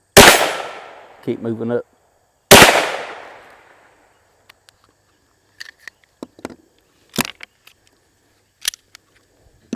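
.22 hollow point rounds fired into a door, two loud sharp reports a couple of seconds apart, each ringing out in a fading echo, followed by quiet clicks and handling noises, with a brief spoken line in between.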